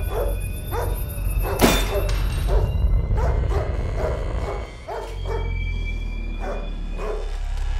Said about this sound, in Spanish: El perro empieza a ladrar.